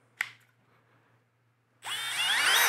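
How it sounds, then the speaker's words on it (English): A sharp click, a quiet pause, then a Milwaukee power drill set in reverse whirs on loudly, drilling out a stripped screw, and keeps running steadily at high speed, close by. "Let's drill this out"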